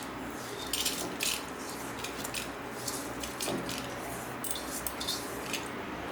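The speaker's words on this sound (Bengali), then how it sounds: "এবারে আমি প্রেসারে ঢেলে দিচ্ছি।" Soaked Gobindobhog rice and washed dal poured into a pressure cooker, giving a soft wet rattling swish with light grainy clinks against the metal pot, in short bursts over a steady background hiss.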